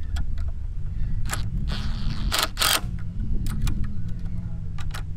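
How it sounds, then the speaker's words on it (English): Nuts and bolts get tightened on a Power-Pole drift paddle bracket, giving scattered sharp metallic clicks and ratcheting taps over a low background hum, close and fairly quiet. "So we're just gonna tighten up these nuts and bolts."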